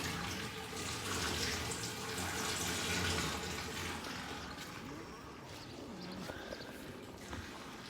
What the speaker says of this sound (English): That's a 4-inch pipe and it's running almost half full.